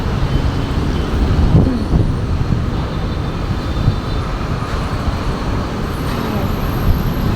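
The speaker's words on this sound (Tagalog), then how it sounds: "The most busy highway." Busy highway traffic rolls past below an overpass as a loud, unbroken roar of engines and tyres, with voices nearby.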